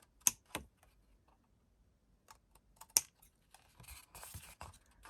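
Scissors snip into the corners of a piece of card for a faceted festive box: a few faint, sharp clicks spaced apart in an otherwise quiet room, followed by light rustling.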